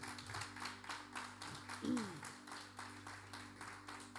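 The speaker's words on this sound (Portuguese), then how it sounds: "eu gostaria que você desse a Jesus uma belíssima salva de palmas" A church congregation claps during a worship service, a rhythmic, fairly quiet patter of hands with a voice briefly heard over it.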